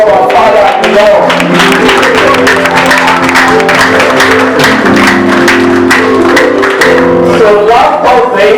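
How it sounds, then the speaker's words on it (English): An audience at a church gathering claps in a dense, sustained round of applause, loud and close, with music or voices swelling underneath. "A round of applause for our Father and the Lord."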